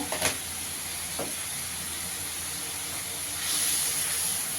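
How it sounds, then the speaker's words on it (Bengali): Spice paste with chilli powder frying in a pan for a vegetarian banana flower dish, a continuous close hiss of sizzling oil with a couple of brief stirring clicks and a louder surge toward the end. "মশলাটা ভালো করে একটু কষিয়ে নিতে হবে।"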